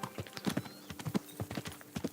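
Horse hooves clip-clop in a steady, quick rhythm in the medieval game Kingdom Come: Deliverance, a moderately loud run of repeated thuds with no talk over them.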